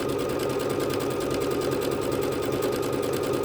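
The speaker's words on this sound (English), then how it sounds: "Here we're going to be doing a really simple stitch, once again a variation on this one, and should stitch out really quickly" A Bernette B-77 sewing machine runs a simple stitch at high speed, giving a steady, rapid, close-up mechanical whir with a fast even rhythm throughout, with no voices.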